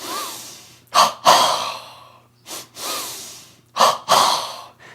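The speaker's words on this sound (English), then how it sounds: "the double breath, short, sharp inhalation, long, strong inhalation, and the reverse when breathing out" A yoga double breath: short, sharp inhalations come in quick pairs and are followed by strong exhalations. The breaths are close and loud, repeated three times in a steady rhythm with no talking.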